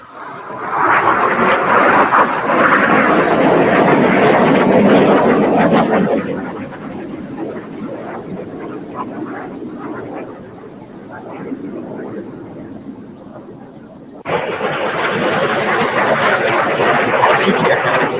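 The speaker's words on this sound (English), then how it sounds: "As each aircraft accelerates to 500 miles per hour, they'll perform a reversal turn across the flight line" Blue Angels jets at an airshow roar loudly as they accelerate, a broad sustained rumble that drops back partway through, then surges again near the end.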